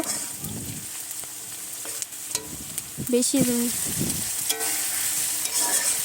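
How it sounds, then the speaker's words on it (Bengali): Chopped onion and chili frying in a wok of hot oil give a steady sizzle broken by spatula scrapes and clinks against the pan, with a brief faint voice-like murmur midway. "প্রথমে কড়াইতে তেল গরম হয়ে গেছে, তারপরে পেঁয়াজ আর লঙ্কা দিয়ে ভালোভাবে নেড়ে নেব।"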